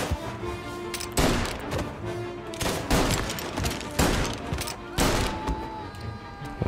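Repeated gunfire in Mafia: Definitive Edition, loud shots and bursts at irregular intervals over a busy in-game soundscape, with a voice talking through it.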